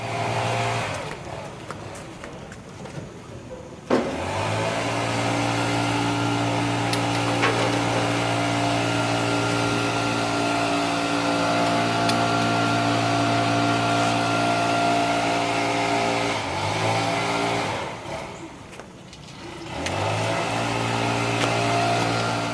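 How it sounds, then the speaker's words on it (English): Engine-driven equipment drones steadily from a distance across a lake, a sustained mechanical hum that dips briefly twice, with someone talking over it at the start. "and a landscaping crew across the lake. You can hear them now."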